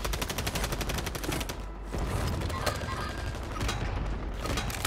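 Rapid gunfire in Call of Duty, bursts of automatic fire in quick rhythmic volleys with a brief pause, then more sustained shooting, loud and close.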